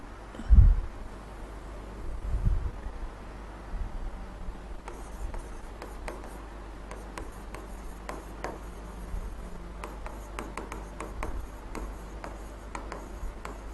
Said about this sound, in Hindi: इसको मैं थोड़ा दूसरे पेन से लिख देती हूँ